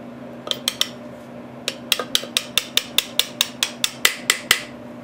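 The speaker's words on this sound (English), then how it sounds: "Hammer." Repeated sharp metallic taps of a hammer on metal parts during a Briggs Model Y engine rebuild, about fifteen strikes in a quick, slightly uneven rhythm, close by.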